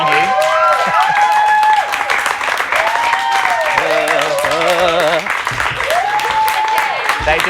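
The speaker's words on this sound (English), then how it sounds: "And Racka, Chachi, one more round of applause as they make their way back to stage, guys." Applause from a studio audience for a band, heard as a bright wash of clapping under a host's talk, with sweeping tonal sounds mixed in.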